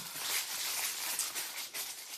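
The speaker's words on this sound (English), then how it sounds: "I love this tissue paper, so I'm gonna do my best not to tear it up too much." Tissue paper from a subscription planner box is gently unwrapped, producing soft, close crinkling and rustling with small crackles throughout.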